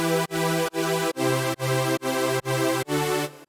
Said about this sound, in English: So straight away we can hear that kind of EDM style pumping effect.